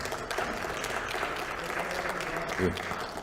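Applause from lawmakers at an emergency caucus of the Liberty Korea Party, approving a deputy floor leader's appointment: steady dense clapping through the whole stretch, fairly close, with some voices mixed in.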